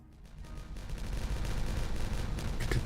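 Explosives detonate in the beaver city-building game Timberborn, a rapid crackling volley of blasts that builds in loudness and density over a few seconds.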